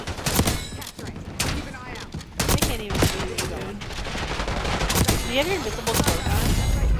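Rapid gunfire bursts and scattered shots from a Call of Duty multiplayer match, loud and close, repeating through the whole stretch while players chat over the shooting.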